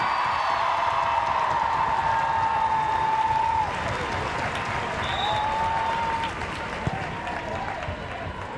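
A stadium crowd at a women's FA Cup match between Arsenal and Man City cheers and applauds in a broad, sustained roar that fades slightly midway, with a commentator talking over it.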